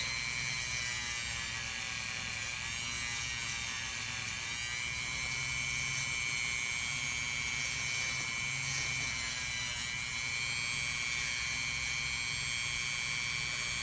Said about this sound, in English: So I'm gonna sand this one and I'll show you what I mean. This is what it looks like before. I'm gonna turn my Dremel on.